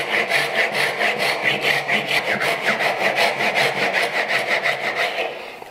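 A hand saw cuts wood for a mitered bridle joint in steady, even back-and-forth strokes, about three per second, loud and close, fading slightly at the end.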